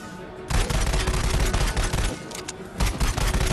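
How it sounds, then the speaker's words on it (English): Rapid gunfire in the virtual reality shooter Raw Data, with loud bursts of shots in quick succession and a brief pause before the firing resumes. "Get a couple pot shots on up here."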